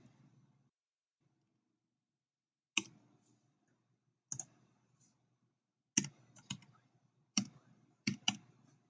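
Computer keyboard typing comes in sparse, quiet clusters of clicks separated by pauses, close and isolated against a near-silent room.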